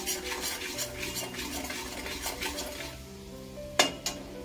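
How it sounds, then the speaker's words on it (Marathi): A spoon stirs macaroni pasta in a pan over low heat, light scraping and clinks against the metal under a faint sizzle, ending with two sharper knocks. "मध्ये मध्ये थोडे हलवून घेते"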